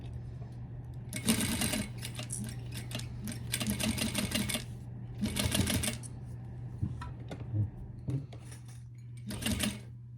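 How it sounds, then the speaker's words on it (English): Sewing machine stitching across a small unlined fabric pouch in bursts of rapid mechanical chatter with short pauses between runs, up close over a steady low motor hum. "And I want you to sew it across,"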